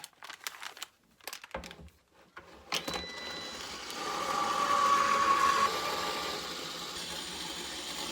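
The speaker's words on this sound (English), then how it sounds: "We're going to run that through our die cutting machine." Vellum cardstock is fed through a die cutting machine, starting with a few crinkles and clicks before a steady mechanical grinding hum builds and holds.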